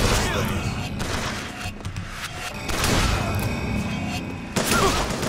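Rapid gunfire from a firefight in Bioshock Infinite, bursts of shots and thumping impacts rolling on, loud and close, with a sharp heavy blast near the end and a voice mixed in.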